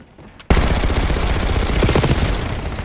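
Rapid automatic gunfire in a video game bursts in after a short quiet moment and continues loud and dense to the end.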